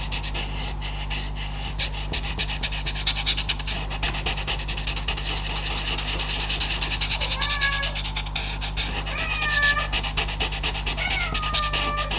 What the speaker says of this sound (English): She's like meowing.